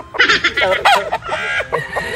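Several chickens cluck and squawk close by in quick, uneven bursts, with short pauses between calls.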